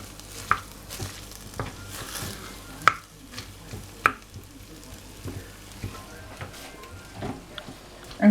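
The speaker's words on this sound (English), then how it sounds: "we're going to give that a little tiny stir again" Spoon stirring chilli con carne with stock pots in a slow cooker, a soft scraping with irregular knocks of utensil on the pot, moderately close and without talk.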